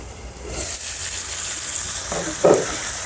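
Tomatoes sizzling in hot oil in a covered pan, a steady loud hiss of frying with a couple of brief stirring scrapes near the end.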